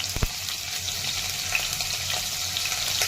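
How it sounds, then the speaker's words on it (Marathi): Paneer fries in a pan, giving a steady, dense sizzle close up with a soft knock near the start and no talk over it. "पनीर थोडं मी फ्राय करून घेणार आहे"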